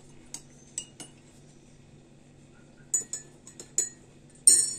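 A spoon clinks against dishes in scattered light taps, a few bright metallic chinks spaced apart over a quiet low hum.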